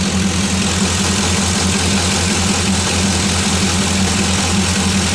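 LS-swapped third-generation Chevrolet Camaro V8 idling after a cold start, a loud, steady low rumble with an even pulsing beat that never changes pace, no voices.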